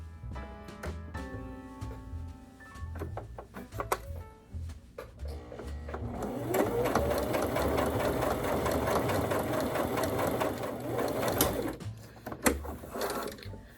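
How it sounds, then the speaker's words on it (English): Sewing machine stitching along the last side of fabric for a picnic basket makeover, running in a steady continuous whir for several seconds after a few start-stop bursts, fairly close and clear with no talking. "I got my bobbin made. I got my machine rethreaded. So I'm on the last side."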